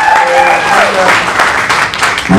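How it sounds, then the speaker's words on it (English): Audience applause at a live country music show, a steady loud wash of clapping with crowd noise and traces of voices mixed in throughout. "I appreciate the applause"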